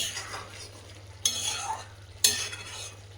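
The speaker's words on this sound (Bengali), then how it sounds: "এবার ভেজে রাখা চিংড়ি মাছগুলো দিয়ে দেবো। চিংড়ি মাছগুলো দিয়ে বেশিক্ষণ ফোটাবো না" Fried river prawns tipped into a simmering potato curry, a soft sizzle and bubbling with two sharp clinks of a utensil against the pan, close and alone.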